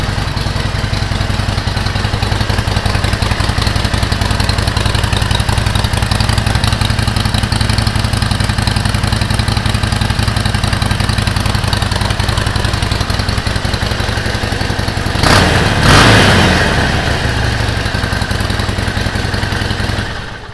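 A 2013 Harley-Davidson XL1200C Sportster V-twin idling loud and close in a garage, holding a steady lumpy rumble, with a brief throttle blip near the end.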